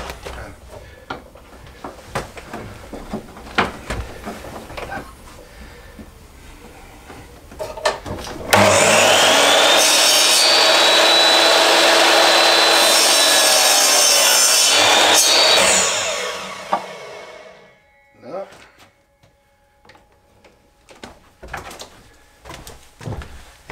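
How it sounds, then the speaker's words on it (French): A circular saw cuts a small wooden piece in one loud, continuous run of about seven seconds. Quieter handling knocks and rustles come before and after the cut. "Et puis là, on va lui donner un petit coup à la scie circulaire."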